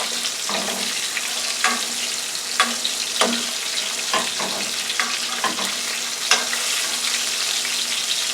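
Porgy fish frying in a pan hiss with a steady, close sizzle while two spatulas scrape and tap against the pan in scattered bursts as the pieces are flipped.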